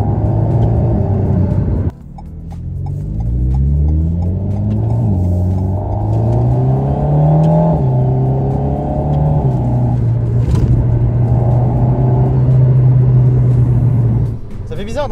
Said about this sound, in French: Bizarre d'entendre le turbo mais derrière.